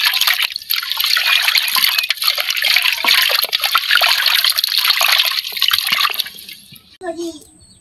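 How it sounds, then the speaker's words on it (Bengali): Water runs and splashes while cut hilsa fish are rinsed in a village kitchen, a loud, continuous gush close by that cuts off near the end. "এখন মাছগুলো আমরা ধুয়ে নিব।"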